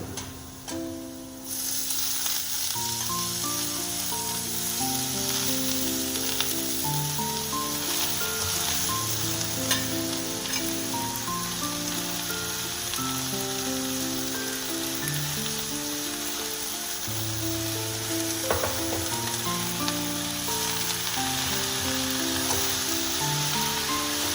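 Chopped, washed red amaranth greens hit a hot pan with salt and turmeric, giving a steady, even sizzle that runs continuously beneath background music.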